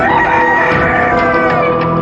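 Cockerels crowing next door among a flock of over 100 chickens, a continuous layered chorus of crows and clucks filling the short stretch at steady, fairly loud level without talk.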